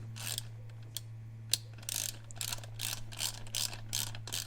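A ratchet tightens the mounting bolts holding an OPENROAD 4500 lb winch onto its mount plate on a Kawasaki Mule SX 4x4, giving a rapid run of clicking bursts with brief pauses, close and fairly quiet over a low steady hum.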